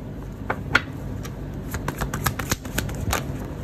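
Tarot cards being shuffled by hand: soft, quiet riffling and light slapping clicks in an irregular rhythm, close by with no talk.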